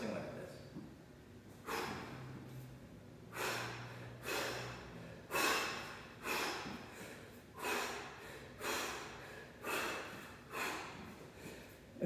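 Close, forceful breathing cycle for a snatch lift, with about eight sharp breaths in a steady rhythm roughly once a second and no talk over them.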